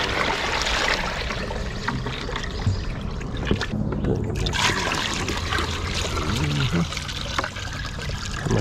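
A steady stream of water is poured from a 4.5-gallon bucket into a water hole for deer in the woods, giving a continuous splashing trickle that stays even and close for several seconds with no talking.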